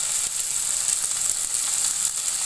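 Tomato, dried red chillies and herb leaves fry in a pan for homemade pizza, a loud, continuous hissing sizzle with a faint crackle and no pauses, heard up close with no talking.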